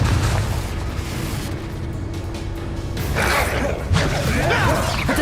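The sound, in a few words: Confringo explosion spell in the video game Hogwarts Legacy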